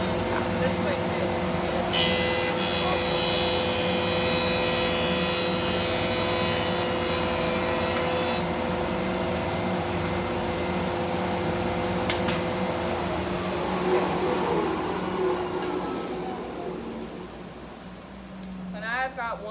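A wood planer runs steadily as a board is fed through it, giving a loud, constant machine drone with a brief higher whine in the middle. A person talks over the noise.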